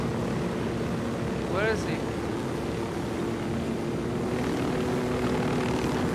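Steady propeller-engine drone of an airplane in the Ghost Recon Wildlands video game, running continuously at an even level beneath excited co-op voices chatting over it.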